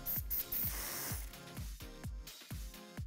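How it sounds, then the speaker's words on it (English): Quick hissing bursts of hairspray misted over a plaited bridesmaid hairstyle, close and soft, several short puffs in quick succession. "Going to give that a quick blast of hairspray."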